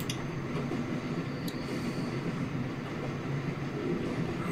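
A train in The Walking Dead video game rumbles along in a steady, low, continuous rolling drone, faint and constant, with a few light metallic clicks on top.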